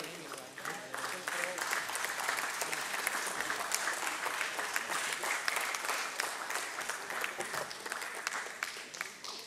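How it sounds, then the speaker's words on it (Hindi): Sustained applause from a sizable crowd at a bond listing ceremony, steady rapid clapping throughout at moderate distance, with no speech over it. "एक बार जोरदार तालियां हो जाए।"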